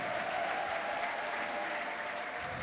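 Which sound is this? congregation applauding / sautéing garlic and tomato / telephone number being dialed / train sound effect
congregation applauding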